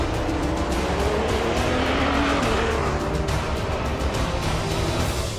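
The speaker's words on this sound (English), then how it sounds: "It's a brilliant start for Bernhard and Trullier." Audi and Peugeot race cars roar off at the start of a race, a dense wall of engine noise with rising revs and faint tire squeal, loud and continuous throughout.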